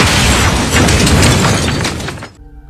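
A loud, dense blast from a bazooka attack in The Walking Dead, with a broad roaring burst and debris-like crackle filling about two seconds before cutting off abruptly into near silence.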